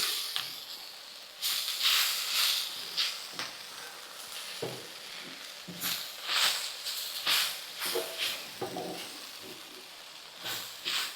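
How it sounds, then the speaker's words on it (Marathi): Okra is being sautéed with turmeric, spices and fresh grated coconut in a pan, giving a soft frying hiss broken by repeated bursts of stirring and scraping that come and go at close range. "भाजी आता चांगली अशी परतून घ्यायची"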